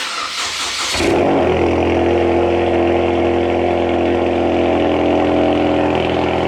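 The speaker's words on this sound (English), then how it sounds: "Those E30 cold starts can never get boring." BMW E30 engine in a cold start: a brief cranking burst that catches into a loud, steady, high idle close by, with no talking.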